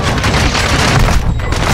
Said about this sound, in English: He threw a grenade right at my shield